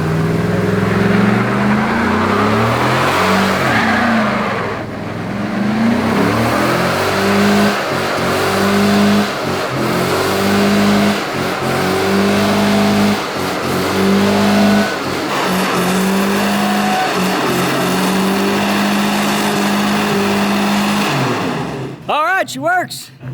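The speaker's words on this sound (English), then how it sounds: "I was gonna say at first that was like the slowest burnout I've ever seen." A van fitted with a donated V8 engine does a slow burnout, its engine droning and revving steadily with tire noise throughout, voices talking over it, and a sharp burst at the very end.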